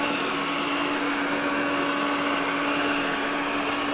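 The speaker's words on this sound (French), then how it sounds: "et l'aspirateur, il commence." An Ecovacs Deebot Ozmo robot vacuum cleaner starts up in standard mode, giving a steady, loud suction whir with a constant motor tone that holds evenly throughout, close by and without speech.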